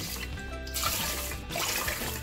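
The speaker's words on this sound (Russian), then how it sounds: "Ну и добавляю воду." Water is poured steadily into a pot of rice, about three parts water to two of rice, as a turkey curry dish is cooked. The pour is one continuous close splash with no pause.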